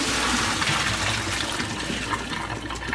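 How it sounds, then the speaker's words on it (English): Water rushes and drains as a pot of cooked lasagna noodles is strained, a loud continuous gushing splash close by that holds steady throughout. "So now I'm gonna strain the lasagna."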